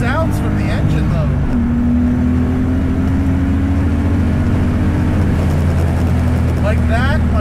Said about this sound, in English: So many cool sounds from the engine though.